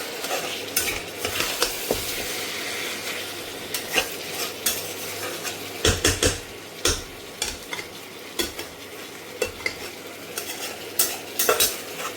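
Chicken coated in cardamom and garlic paste and ground coriander is stirred in a pan for a lemon chili chicken, giving repeated scraping and clinking strokes over a low sizzle, close and fairly loud.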